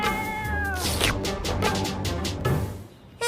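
A cat meowing and caterwauling in a drawn-out, wavering series of loud, close yowls that run almost unbroken to the end.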